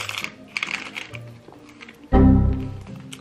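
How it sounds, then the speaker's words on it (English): Keys and small items rustle and clink as they are pushed into a nearly full Coach Quilted Tabby 20 mini bag, with soft tapping handling noises followed by a louder, close scraping rustle near the end. "So let's see if the keys can fit."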